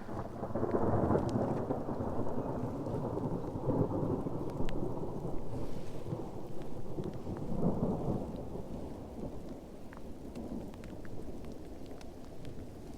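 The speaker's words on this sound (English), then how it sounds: "that is the thunderstorm coming, and it's getting starting to rain" Deep thunder rumbles and rolls continuously over a steady wash of falling rain in the western Arctic, loud and enveloping throughout.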